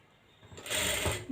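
A sewing machine stitching the side seams of a tucked blouse gives a short, close whirring run of mechanical clatter, quick and fairly quiet, with no voices.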